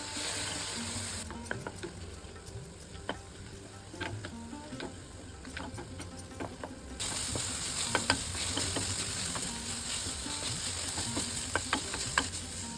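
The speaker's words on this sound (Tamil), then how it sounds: "இதை வந்து ஒரு 3லேருந்து 4 நிமிஷம் வரைக்கும் வதக்கிக்கணும்." Radish pieces sizzling in a hot pan, with frequent sharp clicks and scrapes of a spatula stirring, close and steady, no voices.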